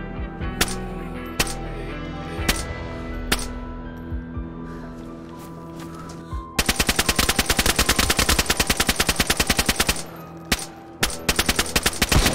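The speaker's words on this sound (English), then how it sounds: "I heard shots towards the airfield" Gunfire in the DayZ video game: scattered single gunshots ring out first, then a long sustained burst of rapid automatic fire, a pause, and more rapid bursts, loud and sharp with no talk.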